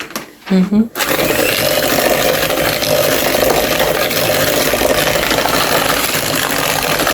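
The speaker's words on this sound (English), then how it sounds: "Now you're just going to beat that until it's soft." An electric mixer beats cookie dough mixture until soft, a steady loud whirring drone running continuously after a brief moment of voice at the start.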